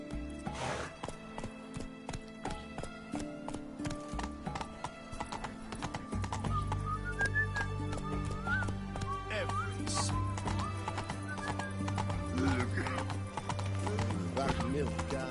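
A horse in The Witcher 3 gallops with a steady, rhythmic clip-clop of hooves that later blends into a denser, continuous pounding under game sound.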